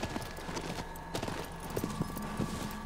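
Horse hooves galloping in the video game Shadow of the Colossus, a steady rhythmic clip-clop of many hoofbeats running throughout, moderately loud over a low ambient game bed.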